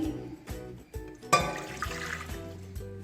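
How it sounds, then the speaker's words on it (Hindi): Water is poured into a cooking pan at the start of an orange marmalade recipe, with a few separate splashing pours and trickles in a quiet kitchen. "पैन में मैं पहले पानी डालूंगी"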